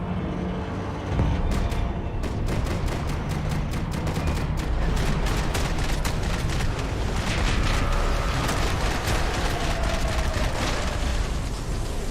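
Sustained gunfire fills a Max Payne 3 shootout, dense rapid bursts of shots and booming impacts running nearly continuously at high level for about eleven seconds.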